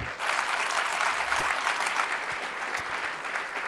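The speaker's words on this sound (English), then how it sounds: "How about a round of applause for Mr. Cameron Wurf?" A crowd at a triathlon club gathering applauds Ironman triathlete Cameron Wurf, a steady, full wash of many people clapping at close range that holds throughout.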